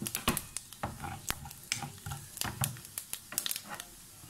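Mustard seeds and crushed cumin crackle and pop sharply in hot oil, a dense run of close, irregular snaps over a soft sizzle.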